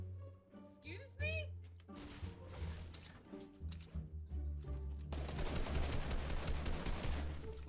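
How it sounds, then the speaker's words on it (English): Rapid bursts of gunfire ring out in a Fortnite squads match. The shots start sparse and become a dense, continuous barrage, loud and close, while a player talks over them. "I'm actually shooting him"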